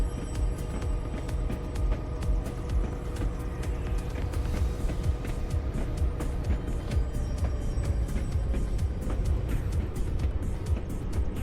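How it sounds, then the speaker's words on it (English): A 1971 Chevelle SS with an LS6 engine and 4-speed idles with a steady, loud low rumble that runs unbroken throughout. "It's a 71 Chevelle SS LS6 4-speed."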